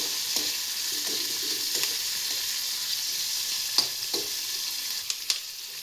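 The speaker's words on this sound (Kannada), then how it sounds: "ಈರುಳ್ಳಿ ಮತ್ತು ಹಸಿಮೆಣಸು ಎಣ್ಣೆಯಲ್ಲಿ ಚೆನ್ನಾಗಿ ಫ್ರೈ ಆಗೋವರೆಗೂ ಫ್ರೈ ಮಾಡ್ಕೊಳ್ಳಿ" Onion and green chilli frying in oil for a brinjal palya, giving a constant bright sizzle with occasional soft stirring taps against the pan, no talking.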